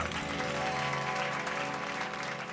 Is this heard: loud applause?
yes